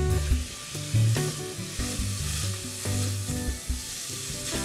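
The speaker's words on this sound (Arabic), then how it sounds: "فينا نضيف مزيج من ثوم المفروم" Minced and crushed garlic sizzles loudly in a hot pan, a steady close frying crackle with bumps of stirring throughout.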